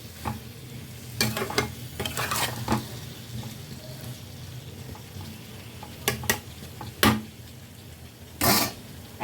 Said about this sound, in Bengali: এটাকে এখন ভালো করে মশলাটাকে একটু কষিয়ে নেব